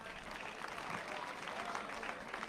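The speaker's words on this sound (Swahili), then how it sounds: "jipigieni makofi." Faint, continuous clapping from an audience at a Gatundu South education event, with a crowd of students applauding, heard low and somewhat distant with no clear talk.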